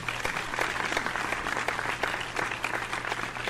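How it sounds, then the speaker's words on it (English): Applause for graduates in the video game The Crooked Man, a steady, dense burst of clapping from a crowd that runs loud and unbroken throughout, with no voices over it. "A round of applause for my fellow graduates."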